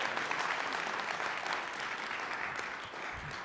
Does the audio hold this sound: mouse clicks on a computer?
no